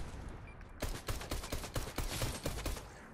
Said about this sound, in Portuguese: O cara me dá uma snipada ali, velho.